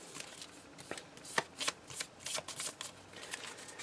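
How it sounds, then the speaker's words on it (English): A deck of game cards is shuffled close up, with a series of quick riffling bursts and soft flaps of cards sliding together, fairly quiet and alone. "the remaining cards, the allies, items, and stuff like that, you just shuffle them up."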